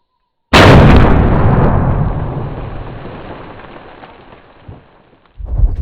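A .50 BMG rifle shot hits bulletproof glass with one huge, close blast that rolls into a long, slowly fading rumble, followed by a brief thump and another loud burst at the end.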